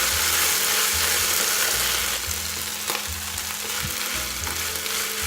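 Mushrooms and vegetables stir-fry in a hot pan with soy sauce and green chili sauce, a loud, steady close-up sizzle running throughout with stirring scrapes and shuffles on top.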